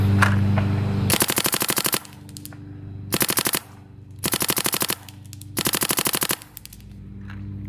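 A paintball marker fires rapid full-auto strings through a Dye Rotor LTR hopper at 12.5 balls per second, four close, loud bursts separated by short pauses, with no voices.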